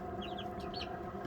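Brahma roosters and chickens clucking in a pen, a few short soft clucks over a steady background hum, fairly faint.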